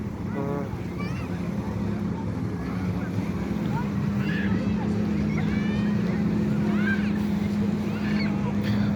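A jet ski runs on Issyk-Kul lake, a steady engine drone with wind noise that stays constant throughout, with faint voices in the background.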